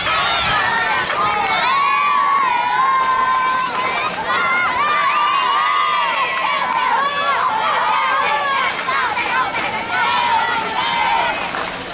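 Crowd at a baseball game between Maringá and Nikkey Curitiba, loud, continuous shouting and cheering from many voices across the whole stretch, with individual yells rising above the roar.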